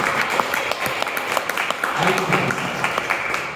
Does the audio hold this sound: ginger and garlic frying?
no